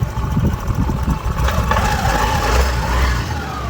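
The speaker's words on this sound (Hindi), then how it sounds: "दोस्तों इंजन तो फिट हो गई, साउंड भी आप सुन सकते हो किस तरीके से खेल रहे हैं," A Honda Activa 6G scooter engine runs after a rebore, idling close by with a steady, slightly uneven putter and a mild rise in revs, heard alone without speech.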